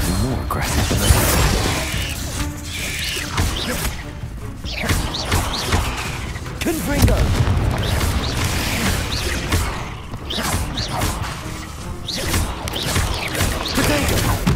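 Repeated spell blasts crash and thud in a Hogwarts Legacy duel, loud impacts recurring every few seconds amid whooshes and dense game noise.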